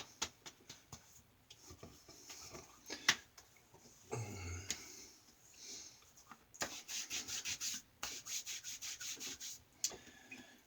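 Witch hazel splash is patted and rubbed onto a freshly shaved face, close to the mic. Soft skin rubbing turns into quicker rhythmic pats near the end, with no talking.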